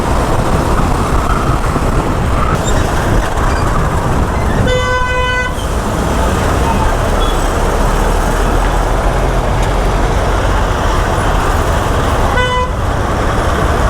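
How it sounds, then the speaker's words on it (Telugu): Dense road traffic on a busy Mumbai street, a steady loud roar of engines with two sharp horn toots standing out, the first around the middle and another near the end. "ట్రాఫిక్ బాగానే ఉంది."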